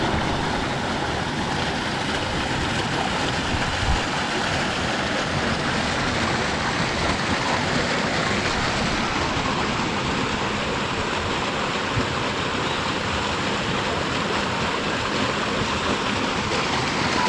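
A waterfall pours into a rocky pool with a sandy bottom, making a steady, loud broadband rush that holds constant without pause, with no voices over it.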